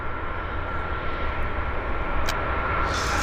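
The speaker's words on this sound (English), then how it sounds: "there's an A330 taxiing out in the background, Air Canada" An Air Canada Airbus A330 jet taxiing at Vancouver airport, a steady broadband engine roar and whine at moderate distance, continuous with no talk.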